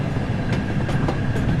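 Train coasting with brakes released as it rolls into a station in Train Sim World, on the Buxton Midland to Manchester Central Peak Forest route with a Jubilee locomotive; a steady low rumble with faint clicks over about two seconds.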